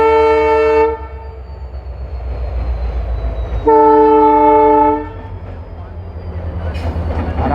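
An LHB-coached Marudhar Express, hauled by a WDP 4D diesel locomotive, departs Jaipur Junction with two loud, close horn blasts over a heavy rumbling engine drone, with people talking nearby.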